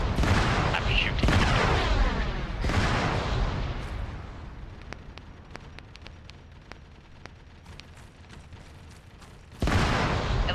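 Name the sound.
gunfire in the video game Arma 3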